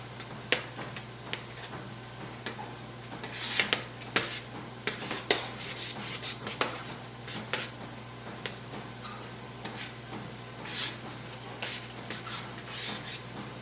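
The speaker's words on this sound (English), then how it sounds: "It's a lot to stir." A very full kettle of thick candy mixture being stirred rapidly by hand, with repeated scraping and clinking strokes of the spoon against the pot, irregular and close, with no talking.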